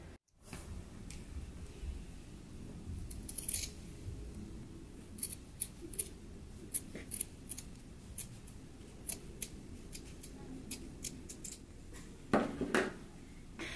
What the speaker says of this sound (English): we're going to trim this down to 3/8 of an inch